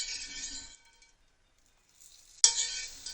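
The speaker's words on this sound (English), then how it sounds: "Oh, sizzling." Croutons sizzle and crackle in a hot pan, a bright hiss that cuts out for over a second, then bursts back loudly with a clink as more drop in.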